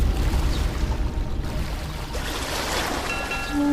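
A boat paddled through water, with continuous sloshing and splashing close by, steady and moderately loud, swelling slightly toward the end.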